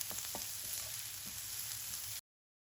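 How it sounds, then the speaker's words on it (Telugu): Ginger, garlic and onion frying on a medium flame, a soft, even sizzle with a few faint stirring taps, heard alone for about two seconds before cutting to silence. "అంతా మనం ఒకసారి మీడియం ఫ్లేమ్లో మనం ఇది ఫ్రై చేద్దాం."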